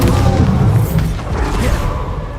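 A Bombarda explosion spell from the Hogwarts Legacy video game, a loud deep booming blast that rolls on as a sustained rumble.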